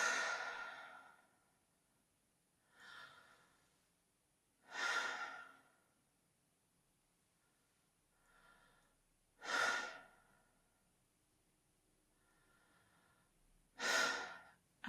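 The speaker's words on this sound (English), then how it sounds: "Box breathing is super simple." Slow, deliberate breaths drawn in and let out during a box breathing exercise, close and soft, each breath a few seconds long and separated by quiet pauses, with the strongest exhales coming roughly every four to five seconds.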